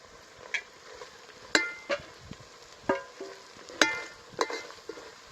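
Food frying in a pan with turmeric and coriander added, a steady low sizzle broken by several sharp clacks of a spoon stirring against the pan, close and clear with no talking.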